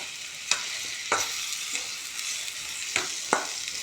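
Onions and tomatoes sauté in oil with a steady sizzle, broken by several distinct scraping strokes of a spoon stirring the pan at irregular intervals.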